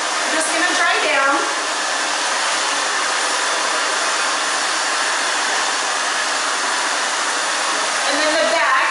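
A hair dryer blowing hair dry during a haircut, a loud, steady, close whooshing rush that runs the whole time, with brief shifts in tone near the start and the end as the dryer moves.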